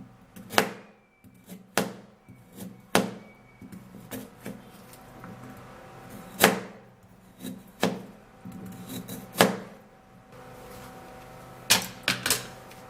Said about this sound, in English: after peeling this, then I would have to cut in it into tiny cubes